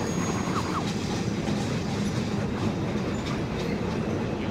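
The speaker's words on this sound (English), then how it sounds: "Get rid of the freight train at least this time." A freight train rumbles steadily and continuously close by in the video game Conduct Deluxe, a dense rolling rail noise with no talk over it.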